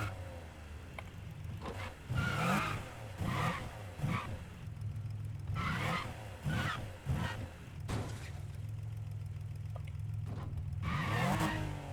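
Car engine in the racing game NFS Heat, droning steadily with repeated revving surges and roaring bursts as the driver tries to ram another car from behind, punctuated by brief impact-like noises.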